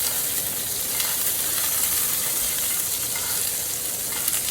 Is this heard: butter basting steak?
yes